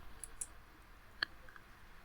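Single soft computer mouse click, faint and brief over quiet room tone, with a couple of tiny ticks just before it.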